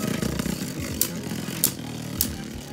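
Beyblade spinning tops, including a God Valkyrie, battling in a stadium, with a steady whirring rattle and three sharp scraping clacks as they collide.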